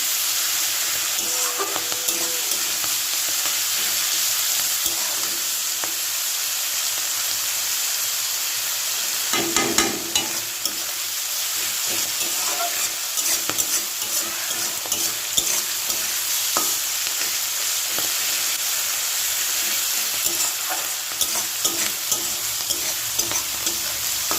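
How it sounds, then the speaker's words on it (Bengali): A full packet of vegetable chowmein being stir-fried in a pan, a continuous bright sizzle and hiss with repeated scraping and tossing of the spatula, close and steady throughout. "এখানে চাউমিন করা হচ্ছে তো ফাইনালি দেখো এখানে সমস্ত সবজিগুলো দিয়ে দিয়েছি"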